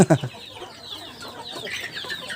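Black chickens clucking in short repeated bursts, a louder cluster at the start followed by softer, scattered clucks from several birds close by.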